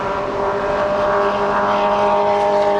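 An aircraft at Los Angeles International Airport roars steadily and loud with a strong tonal engine hum, continuous and close throughout, with no talking.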